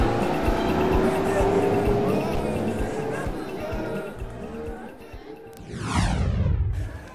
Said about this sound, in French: les sacs chargés sont transportés vers ces pirogues à moteur